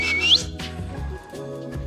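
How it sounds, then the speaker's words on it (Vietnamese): A man out grouse hunting gives sharp, high whistles to call his hunting dog back, a piercing whistle at the start followed by fainter short bursts amid outdoor background sound. "Do đó là anh Matt anh sẽ huýt sáo để cho chó sù quay lại gần gần ảnh thôi"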